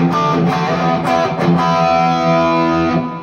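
Distorted electric guitar played through a Crate GFX-15 amp into an EVH 5153 2x12 cab, with reverb and effects: sustained chords ringing with a few picked accents, loud and continuous, no talking.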